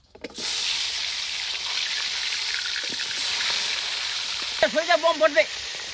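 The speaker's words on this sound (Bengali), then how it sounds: "এই মাছ তেলে ফোটে জব্বর ফোটে" Fish fries in hot mustard oil in a pan, giving a close, steady hissing sizzle throughout, with a few brief chirping tones near the end.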